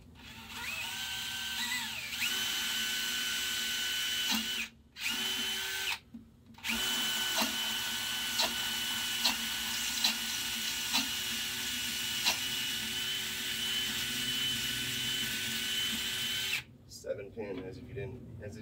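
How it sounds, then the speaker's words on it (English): Power drill bores steadily into a Best IC lock core indoors, a close, continuous whine broken by two brief pauses and stopping near the end. "It's one of a bunch of them that we have to drill out of the building"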